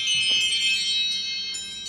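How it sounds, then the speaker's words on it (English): A reminder alarm rings with a steady, faint, high electronic tone that holds for a couple of seconds with no talking over it. "That's my alarm telling me to publish a YouTube video."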